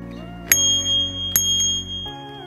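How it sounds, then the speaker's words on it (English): A bicycle bell on a handlebar rings twice, each a bright metallic ding with a long ringing tail, clear and close with no talk over it. "Step 8, bell installation. Mount the bell to the handlebar with screws"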